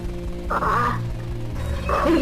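Chickens clucking in the video game Overcast Walden and the Werewolf, heard as two short burbling call bursts over a steady, droning game background.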